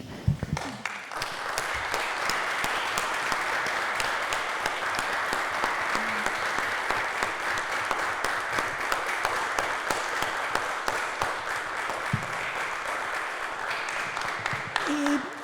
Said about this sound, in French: j'inviterai toute l'Assemblée à se lever puis applaudir une équipe exceptionnelle